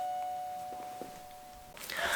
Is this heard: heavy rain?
no